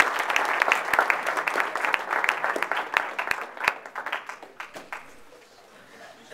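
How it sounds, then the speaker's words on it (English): An audience at a university innovation talk gives a guest speaker a round of applause. Dense, close clapping gradually thins out and fades over about five seconds into a quiet room. "So let's just get a round of applause for Nathan."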